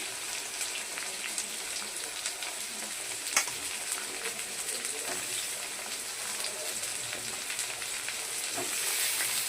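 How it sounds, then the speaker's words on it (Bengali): Pointed gourd and potatoes fry together in a pan, a steady crackling sizzle like light rain with occasional faint stirring knocks, close but soft, without speech. "পটলটা একটু ভাজা হলে টমেটোটা দিয়ে দেবো।"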